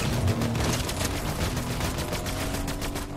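Rapid assault rifle fire from the Warforged Assault Rifle in a video game, a dense sustained burst of repeated gunshots with loud steady bangs throughout.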